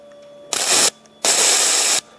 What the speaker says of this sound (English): we'll watch the fuel spray together of each injector